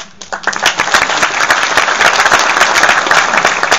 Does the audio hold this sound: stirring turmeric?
no